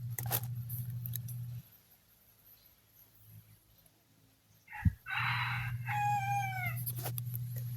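A red junglefowl, a wild chicken, crows once up close in outdoor quiet, a clear multi-part call with a steady low hum running beneath it.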